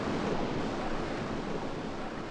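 Steady rushing water from the Medievil video game, a dense, continuous wash of surf-like noise with no breaks, fairly loud and heard alone.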